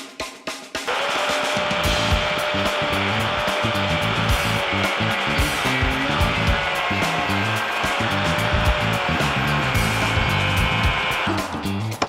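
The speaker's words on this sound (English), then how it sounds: "So that's after the attack of the angle grinder." An angle grinder slicing open the bearing of a Peugeot 406 Coupe alternator during a rebuild, a loud continuous high whine with grinding roughness running steadily for about ten seconds before stopping.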